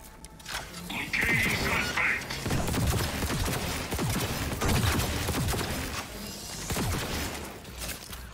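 Rifle gunfire in Cyberpunk 2077 comes as dense, loud bursts of repeated shots mixed with game effects, while a person talks over the action.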